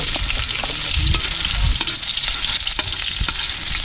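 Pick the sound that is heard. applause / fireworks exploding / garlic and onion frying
garlic and onion frying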